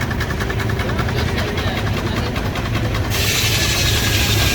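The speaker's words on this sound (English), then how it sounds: "There is the steam engine." A belt-driven steam engine running at the Florida Flywheelers show in the Fort Meade area, with a loud steady mechanical chugging and rumble, rhythmic pulsing, and brighter machinery noise rising near the end.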